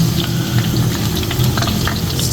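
Finger fish fries in a pan of oil as the pieces are turned, a loud dense bubbling sizzle that holds steady and close throughout with faint crackles on top.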